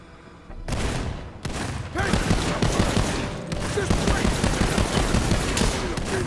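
Gunfire in Borderlands 3 crackles in dense, overlapping bursts of shots that keep up steadily for several seconds, loud and close, with scattered voice fragments underneath.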